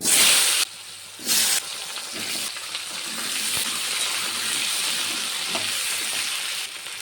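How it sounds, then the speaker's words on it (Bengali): Potato pieces fry in hot oil, a loud burst of crackling and hissing with a couple of sharp surges at the start, then settling into a steady sizzle with occasional stirring clinks. "এই তেলের মধ্যে কিছুটা আলু ভেজে নেব"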